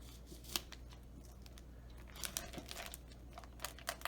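Plastic packaging is peeled off a whole turkey after being cut open with scissors, with soft, close crinkling and tearing and a few sharp snips and crackles spread unevenly across a quiet kitchen, with no talk.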